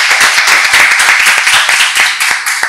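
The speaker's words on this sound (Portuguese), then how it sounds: "Ainda não disse nada e já estou a ser aplaudido." Audience applause greeting a professor at a Portuguese talk event, a dense, steady patter of many hands clapping close and loud for about three seconds, with no voices over it.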